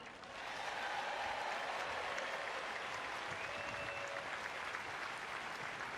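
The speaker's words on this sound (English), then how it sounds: "how about another great round of applause for Serena and Anna?" Sustained applause from a large tennis crowd after the 2014 Cincinnati final, steady and dense clapping that rises quickly at the start and holds at full strength throughout.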